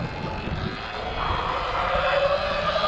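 A Sur-Ron electric motorbike fitted with a 72V battery accelerates at a fraction of throttle, making a steady, rising motor whine that swells and holds loud and close over a broad rushing background, with no talking.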